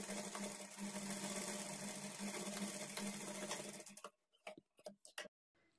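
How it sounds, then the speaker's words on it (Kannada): A sewing machine runs steadily while stitching a blouse with a quarter-inch seam margin, a dense continuous mechanical whir lasting about four seconds before it stops, followed by a few separate clicks and handling knocks. "1/4 ಇಂಚ್ ಮಾರ್ಜಿನ್ ಇಟ್ಕೊಂಡು ಸ್ಟಿಚ್ ಮಾಡ್ಕೊಳ್ಬೇಕು"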